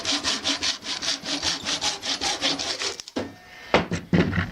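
A hand saw cutting a piece of wood clamped in a vise, with a rapid, steady rasping rhythm of close strokes that pause briefly and then resume in a few final rough strokes.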